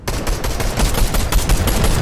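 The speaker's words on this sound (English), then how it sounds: "Goo gun, they're using goo guns." Goo guns fire in rapid succession in a video game, a dense run of loud, close bursts with no pause, and no voices.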